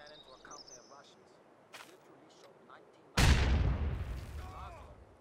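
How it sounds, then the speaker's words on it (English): A grenade thrown onto a machine-gun crew in Company of Heroes 2 detonates with a sudden loud boom that rolls off into a decaying rumble, preceded by quieter in-game battlefield sounds and distant shots. "we're going to see how much a grenade does if I throw it right into the center, right on top of the gunner"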